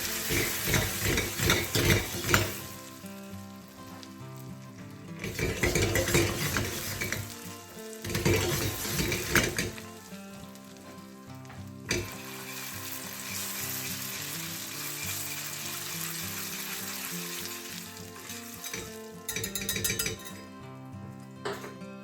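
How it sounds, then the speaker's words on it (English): Butter sizzles in a pan for caramel rum bananas, stirred with clinks of a utensil against the pan; the frying is loud and close, with bursts of scraping and no talk. "So I've got 40 grams of butter, just go in with that. Give that a good mix."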